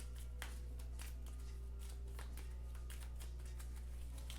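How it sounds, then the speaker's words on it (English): A deck of Marvel Legendary deck-building game cards is shuffled, giving quick papery riffles and flutters in irregular bursts over a steady low hum, fairly quiet and close. "Okay, well that means I need to shuffle."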